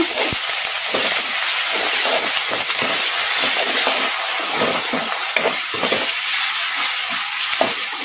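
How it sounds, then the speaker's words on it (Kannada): Garlic paste fries in hot oil in a pan for chicken fry, with a constant close sizzle and hiss broken by the scrape and clatter of stirring. No voices are heard. "ಅಲ್ಲ ಬೆಳ್ಳುಳ್ಳಿ ಪೇಸ್ಟ್ ಹಸಿ ವಾಸನೆ ಹೋಗೋವರೆಗೂ ಒಂದೆರಡು ನಿಮಿಷ ಈ ಥರ ಕಲಿಸ್ಕೊಂತ ಫ್ರೈ ಮಾಡ್ಕೊಂಡ್ಬಿಡೋಣ"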